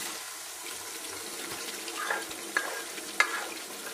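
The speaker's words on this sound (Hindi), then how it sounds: "अब पका हुआ गोश्त को ऐड करेंगे।" Cooked mutton chops go into a pan of frying spices and red chili powder for a butter tadka. A low sizzle runs under a few soft stirring scrapes and clacks, with no talking.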